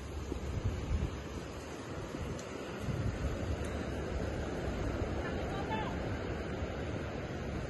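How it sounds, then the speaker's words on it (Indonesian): Strong wind sweeps across the seaside at Cape Collinson in Hong Kong, a steady rushing roar with waves in the background and faint voices. "Anginnya kencang banget hari ini."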